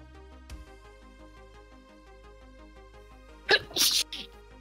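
A sharp, close sneeze bursts out over quiet soft music from Warhammer 40,000: Rogue Trader gameplay, followed by a second quick sneezy outburst.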